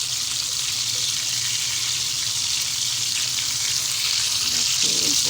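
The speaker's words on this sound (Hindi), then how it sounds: "देखिए कितने अच्छे फ्राई हो रहे हैं।" Seekh kebabs fry in a pan with a constant bright sizzle and hiss, close and steady throughout, with faint kitchen clatter near the end.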